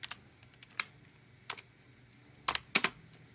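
Typing on a computer keyboard: a few separate, sparse keystrokes followed by a quick cluster of taps, close and quiet against a faint hum.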